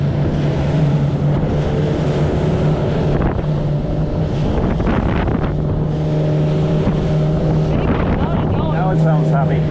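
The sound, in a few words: RIB boat engine running at speed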